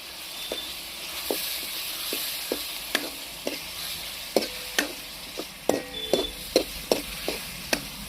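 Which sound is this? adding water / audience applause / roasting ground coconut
roasting ground coconut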